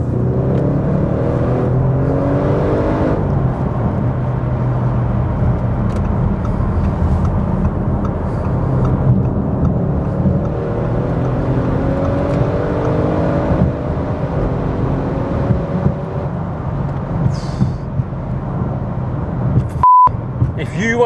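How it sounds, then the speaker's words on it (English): A 2014-era Audi RS6 C7 engine is revved hard under full acceleration, a loud sustained roar with rising gear sweeps heard from inside the cabin. A beep sounds near the end. "you can't review an RS6 and not hear what it sounds like when you're putting your toe down"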